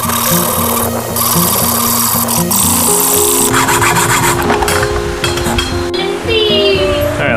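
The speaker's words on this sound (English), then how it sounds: "I was a little bit more comfortable with the hacksaw" Hacksaw cutting through scrap metal for a homemade four-foot lawn leveling rake, heard as steady back-and-forth rasping strokes, close and loud, with no talking.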